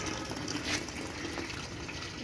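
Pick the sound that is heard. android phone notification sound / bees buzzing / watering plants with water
watering plants with water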